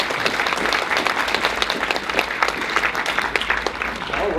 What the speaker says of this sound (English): Let's give a round of applause for Ancient African Antiquities